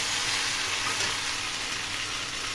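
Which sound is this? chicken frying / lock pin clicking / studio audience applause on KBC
chicken frying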